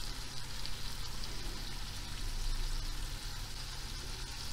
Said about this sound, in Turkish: Kıymamızı da çok güzel kavuruyoruz.